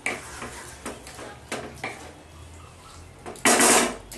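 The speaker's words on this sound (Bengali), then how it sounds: "এবার আমি চিকেনটা একটু নাড়াচাড়া দিয়ে দেবো।" A spoon stirs chicken rezala in a pan, Bengali style, giving a few light metallic clinks and taps spaced through a quiet stretch, then a brief louder scrape near the end.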